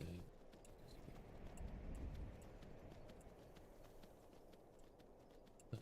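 Horse hooves clip-clop in a quick, even rhythm at moderate distance in a video game, steady throughout with a faint wash of background noise.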